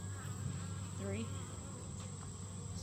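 Honeybees buzz softly and continuously around an opened hive super, with a faint steady hum and a few passing individual bees.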